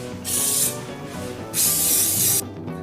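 Cooking oil spray aerosol being sprayed into a bread pan while making cinnamon rolls, two close, loud hissing bursts, a short one followed by a longer one, with quiet between.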